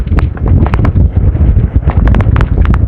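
Strong wind buffets the microphone in a steady, loud roar during a CLLEX expressway race, with brief rattling clicks scattered throughout and no talk.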